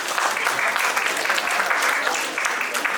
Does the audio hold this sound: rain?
no